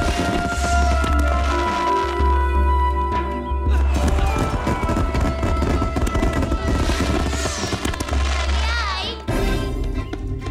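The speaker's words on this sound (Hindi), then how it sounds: "पटाखे इस तरह से जलाते हैं?" Firecrackers being set off and thrown, a loud, busy stretch of popping bursts over a dense background with music-like tones and voices mixed in.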